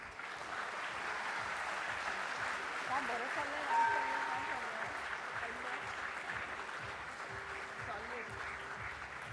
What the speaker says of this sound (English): Can we hear a resounding of claps